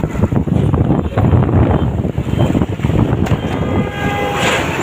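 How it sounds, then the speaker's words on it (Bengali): A train rumbles past nearby in a rural area of Silchar, a steady heavy clatter with wind buffeting the microphone throughout and no talking. "ট্রেন যায়"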